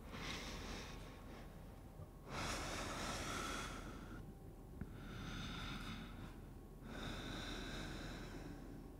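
Deep breathing during a yoga flow: a long, airy inhale followed by a slow, audible exhale, close and soft, repeated in broad swells with no talking.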